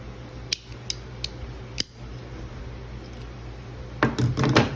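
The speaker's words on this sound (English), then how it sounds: "scissors." Multi-tool scissors from a Victorinox, Leatherman or Gerber kit snip in sharp, close metallic clicks, spaced apart at first and then bunched into a quick cluster at the end, over a steady low hum.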